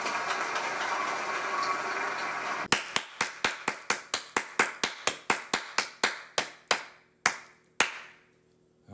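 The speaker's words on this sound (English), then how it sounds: "I thought we were clapping" A few people clap in a sparse, uneven burst of about twenty sharp, close claps that thin out and stop, with no talk over them.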